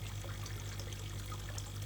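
Water streams steadily through a pipe at a koi pond in winter, a continuous close pouring and trickling wash over a low hum, with no talking.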